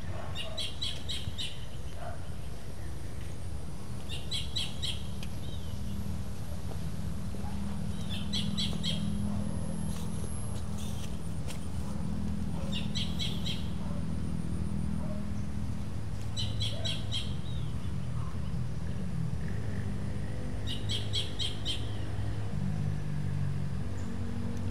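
Many birds chirp among trees near a rural tomb area, with bright, high bursts of calls repeating every few seconds over a constant low outdoor rumble, fairly distant, with some faint background noise.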